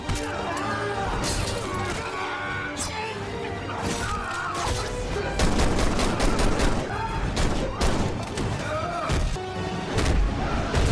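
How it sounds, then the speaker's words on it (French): Chaotic gunfight from The Expendables action film, with dense bursts of gunfire, crashes and impacts layered over a loud score, sustained throughout with voices mixed in. "Christmas et Rod sont bloqués dans une fusillade"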